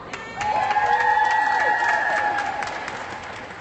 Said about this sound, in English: Can we give one more round of applause to LaDawn?